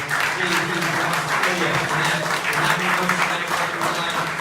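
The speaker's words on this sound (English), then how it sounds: "a round of applause, guys, for our panel" Applause from a conference audience for a VR and AR legal panel, dense clapping that holds steady and loud, with a low murmur of voices running underneath.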